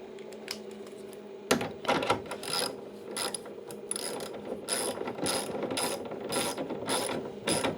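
Cable fasteners on a Victron charge controller are undone with a ratchet, giving rapid, close clicking in repeated bursts after a brief pause, with no talking.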